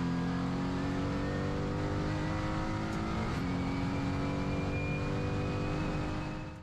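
A race car engine in the iRacing sim holds a loud, steady drone under heavy throttle, its pitch climbing slowly as it accelerates to the end of the lap, then fades slightly at the close.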